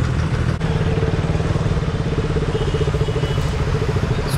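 A KTM Duke motorcycle idles while being parked, a steady, close, rapid low thumping with faint mechanical clatter running evenly throughout, no talk over it.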